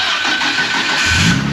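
A car engine cranks and fires up at a car meet in Japan, a short loud burst close by that settles into a rough idle.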